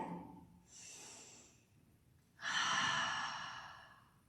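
Two audible breaths blown out close by, a short soft exhale followed by a longer, stronger one, used as when adding breath to help a spark catch flame in building a fire.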